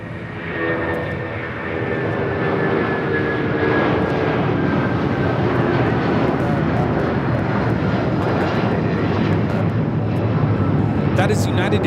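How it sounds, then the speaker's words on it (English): A United Airlines Boeing 757-200 takes off with a loud, sustained jet engine roar and a rising whine that fills the whole stretch, heard up close. "That is United Airlines 1855 taking off to Newark on the 757-200."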